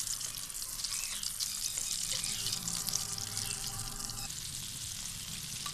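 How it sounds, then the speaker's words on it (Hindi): Chicken pieces frying in a pan over medium heat, a continuous dense sizzle with crackling spatter holding steady for several seconds, close and even, with no voices. "हमने इसे दरमियानी आग पे फ्राई करना है।"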